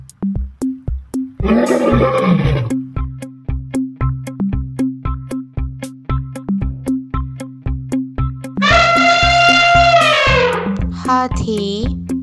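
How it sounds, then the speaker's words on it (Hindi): A lion roars twice, a short gruff roar early and a longer, loud, strained roar near the end, over a steady repetitive children's music beat with rhythmic clicks. "शेर"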